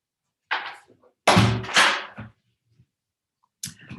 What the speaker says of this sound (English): I've just got someone banging on the door.